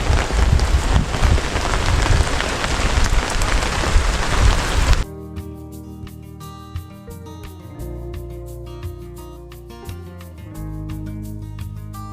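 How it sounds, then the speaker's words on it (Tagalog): Heavy rain pours in a dense, steady roar for several seconds, then cuts off abruptly, leaving quieter background sounds. "Lumakas na naman yung ulan"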